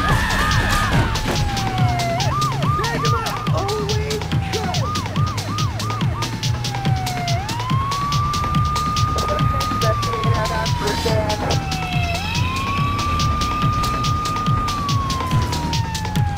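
Wailing police car sirens in Grand Theft Auto III, rising and falling in long sweeps and quick yelps over steady game engine and traffic noise, loud and continuous.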